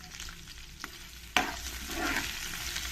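Two sliced onions with a pinch of salt fry in a pan, a steady soft sizzle running throughout, with a brief scrape at the start and a sharper spoon-against-pan clack midway as they are stirred.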